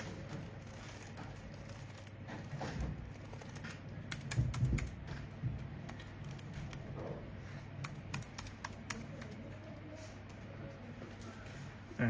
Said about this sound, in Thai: เทสคีย์บอร์ดกันนะครับ